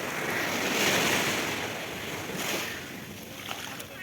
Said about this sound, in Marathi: काय लाटायचा आवाज आहे